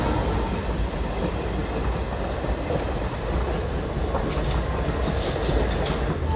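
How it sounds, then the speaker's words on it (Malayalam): A Pune–Ernakulam Superfast express hauled by a G9 electric locomotive rumbles past close by, with a steady roar of coaches and wheels, rhythmic clickety-clack and faint high wheel squeal throughout. "അടുത്ത വണ്ടി വരുന്നുണ്ട് ഗൈസ്. ഇത് പൂനെ എറണാകുളം സൂപ്പർ ഫാസ്റ്റാണ്."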